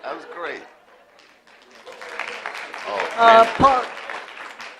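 Audience applause at a school board meeting swells after a speaker's comments, building into a dense round of clapping from a crowded room, with a voice talking over it at the start.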